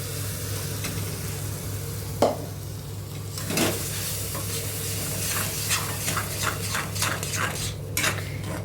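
Spices sauté in a hot pan for pav bhaji, a close, continuous sizzle broken by scraping stirs and light clinks of a spoon against the pan.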